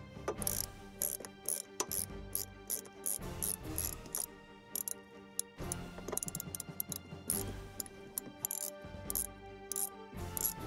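A 10mm socket on a ratchet works a bolt loose on a BMW 1 Series, close rapid clicking bursts with short pauses between strokes and faint metallic ticks, with no speech.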